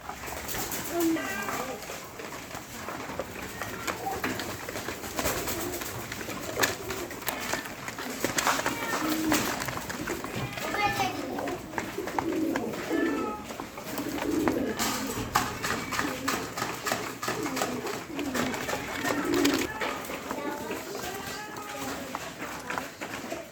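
Pigeons on a pigeon farm coo in soft, repeated rounded calls amid rustling and wing flutters, close and continuous, mixed with someone talking.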